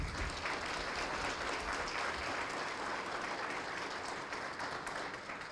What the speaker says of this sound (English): All teachers deserve a huge round of applause